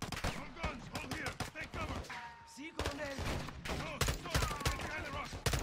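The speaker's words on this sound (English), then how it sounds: "They're shooting at us again." Bursts of automatic gunfire in Call of Duty: Modern Warfare 2 (2022) crack out in rapid clusters while voices talk over the shooting throughout.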